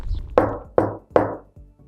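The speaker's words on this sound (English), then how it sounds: "you hear this pot of coffee boiling inside, or someone is knocking on the inside of that tank" A residential water heater tank knocking from sediment buildup: three sharp, hollow metallic knocks at even intervals followed by a fainter fourth, loud and close in otherwise quiet surroundings.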